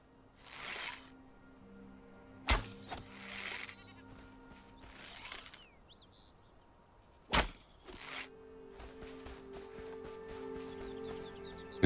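Sheep bleating in the survival video game Enshrouded, several separate bleats spread across the clip with two sharp impact hits in between, moderately close over a quiet ambient background.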